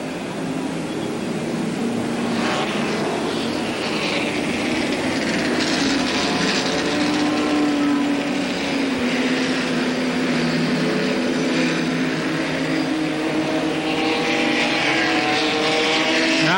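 A pack of race cars roars down the backstretch of a short oval during a 100-lap ARTGO feature, a continuous loud engine drone with shifting pitch as the field passes.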